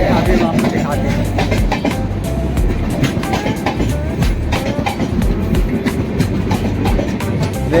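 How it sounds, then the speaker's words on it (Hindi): A Ganga Sutlej Express train pulls into a station platform, with loud continuous rumbling and rhythmic wheel clatter filling the whole stretch, and voices faintly audible beneath. "ये देखिए गंगा सतलुज एक्सप्रेस आई है।"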